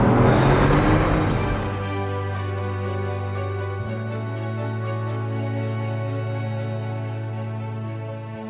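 Bugatti Veyron on a hot test drive, its engine holding a steady loud drone with stacked harmonics after an initial burst of broadband roar that settles within two seconds; a pitch shift near four seconds, no talk.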